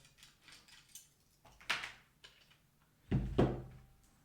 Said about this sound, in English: Let's try to remove these two screws.